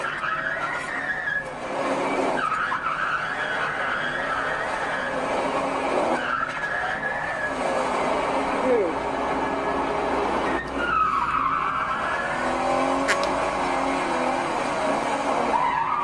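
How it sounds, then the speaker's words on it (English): Several cars doing burnouts during vehicle repossessions, tires skidding and squealing in long continuous bursts with revving engines, loud and close throughout with brief pauses between screeches. "Everybody trying to burn out."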